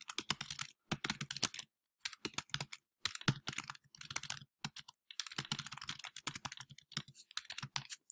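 Quick, close bursts of typing on a computer keyboard as a paper is written, with irregular rhythm and short pauses between runs of keystrokes, no talking.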